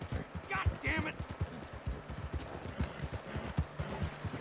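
Horse hooves clip-clop in a steady galloping rhythm in Red Dead Redemption 2, a western video game, heard close up beneath a player's talking.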